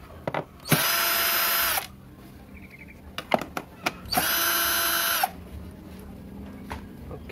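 A cordless power drill whirs in two loud, sustained bursts of about a second each while unscrewing bolts inside a Turbo EHM9595 stand mixer, with sharp clicks and handling knocks of the metal parts between the runs.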